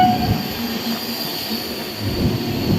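A direct passenger train from Chandigarh runs along the rails with a steady, loud rumble, a constant high metallic whine and a few louder swells of wheel noise, with no talk over it.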